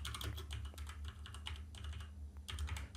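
Rapid, steady typing on a computer keyboard while entering code, a dense run of close, crisp key clicks with a brief lull partway through.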